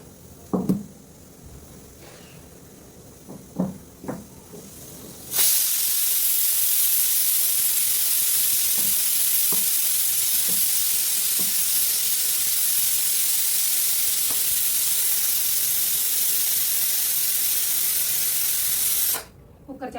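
A pressure cooker cooking rice bursts into a loud, steady steam hiss that runs unbroken for about fourteen seconds before cutting off sharply, following a few quiet kitchen knocks and clatters.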